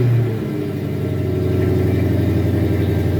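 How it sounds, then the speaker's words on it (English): A car engine cranks briefly and then catches, settling into a steady, fairly loud idle close by that runs without any voices. "I will get the car started so you can hear the engine on this one."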